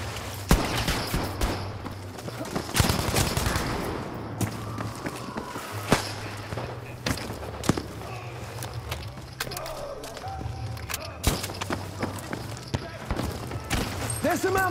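Rapid bursts of gunfire from a KE-7 rifle in a first-person shooter match on an underground map, sharp repeated shots with footsteps and clatter, while players talk over the action.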